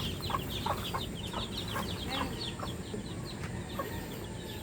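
Pet chickens cluck and squabble close by, a dense run of short, overlapping clucks and squawks over a steady barnyard rustle, with no talking.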